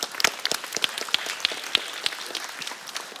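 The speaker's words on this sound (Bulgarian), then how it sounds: "така да получите аплодисменти" Applause for jury members at a school concert in Burgas, a small audience clapping in sharp, scattered claps close by, brief and without talk.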